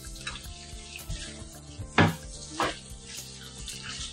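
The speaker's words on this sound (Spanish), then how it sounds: "Le podemos poner un poquito más de aceite, que ahora mismo me lo va a admitir" Trinxat with cauliflower fries in oil in a pan, a constant close crackling sizzle broken by a few sharp scrapes and knocks of a utensil against the pan.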